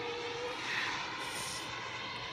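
A C&C MB339 model jet with a turbine engine flies past, a steady broadband turbine roar with a faint whine, fairly loud and continuous, with no talking.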